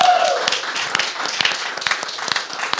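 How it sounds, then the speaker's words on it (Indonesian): Studio audience clapping for comedian Abdur Arsyad on a football talk show, a dense patter of claps running steadily throughout with a few sharper individual claps standing out. "Tepuk tangan dong buat Abdur"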